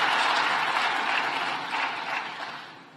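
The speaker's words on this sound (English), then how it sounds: "Please give a round of applause to my president." Audience applause at a conference marking three years of the Sustainable Development Goals, a dense, steady wash of clapping that holds for several seconds and slowly tapers off.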